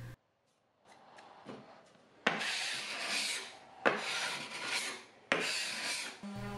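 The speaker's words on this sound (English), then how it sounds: "Then I continued to sand with my 120 grit sanding paper." Wood furniture is rubbed by hand with 120-grit sandpaper in three long, raspy strokes of steady scratching, each stopping abruptly, preceded by quieter light rubbing and handling sounds up close.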